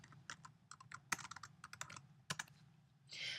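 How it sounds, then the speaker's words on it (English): Keystrokes on a computer keyboard typing a search query, a quick run of irregular clicks and taps close up and fairly quiet, ending in a brief burst of rapid keys with no voice. "If I come up here and I type in unit conversions"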